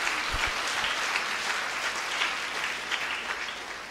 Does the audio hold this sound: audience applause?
yes